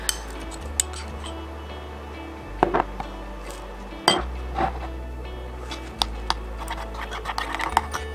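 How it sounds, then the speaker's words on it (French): Honey, Cheerios and pumpkin are mixed in a bowl for a dog's Kong treat, with repeated clinks and scrapes of a utensil against the dish over a steady low hum. "On mélange les ingrédients."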